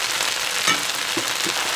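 Chopped onions hit a hot pan of lo mein and sizzle as a steady, bright crackling hiss, with a few soft knocks from tossing.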